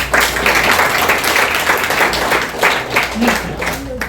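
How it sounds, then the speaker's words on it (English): Audience at a talk clapping, steady dense applause filling the room throughout, with some crowd murmur and voices mixed in. "They deserve a clap."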